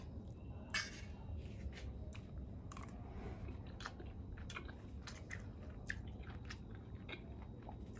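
Someone chewing a mouthful of mixed vegetable curry from a veg thali, with soft, close, wet mastication and irregular small crunching clicks, faint and steady with no talking.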